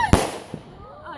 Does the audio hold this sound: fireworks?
yes